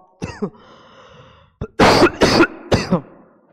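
A few quick throat-clearing coughs, close and loud, in a short burst after a brief pause.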